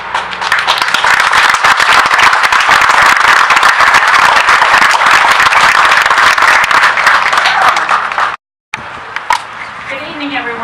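Loud, sustained applause from an audience at a charity hero walk event for the Wounded Warrior Project, dense clapping with cheering mixed in, cutting off abruptly near the end before quieter crowd noise resumes.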